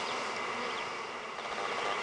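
Dense, steady insect buzzing from many honey bees swarming close by at an open queen-rearing hive, a continuous droning hum with no voices.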